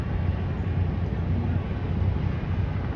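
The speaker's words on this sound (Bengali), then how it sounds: "একটা লঞ্চ ছাড়ছে সুন্দরবন।" Sundarban 16 passenger ferry launch departing on the river on a foggy winter night, its engine a continuous low rumbling drone heard from nearby along with wind buffeting the microphone.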